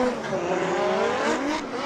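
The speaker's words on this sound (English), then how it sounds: "Hear this 2J engine right here, scream through here" A 2JZ-engined Formula Drift car screams at high revs, a loud sustained engine wail rising and falling in pitch as it drifts through a corner, with tire noise underneath.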